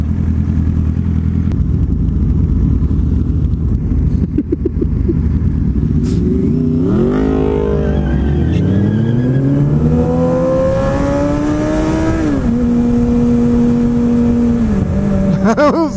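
A Honda Civic accelerating hard on a city street, its engine climbing through several rising gear pulls with shifts between them, loud and near, mixed with other traffic and a passing motorcycle-like rasp.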